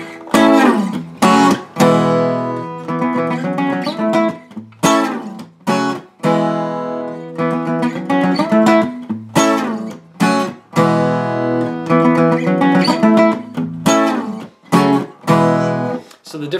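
Guitar part from a song on a clean guitar: plucked chords and notes with slides and brief pauses between phrases, close and clear, with no one speaking.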